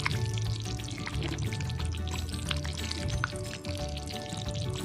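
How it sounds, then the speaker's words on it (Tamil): Steady bubbling and sputtering of thick tomato thokku simmering in a clay pot, continuous and close, with small pops throughout. "இப்போ நல்லா கொதிக்கிறது பாருங்க"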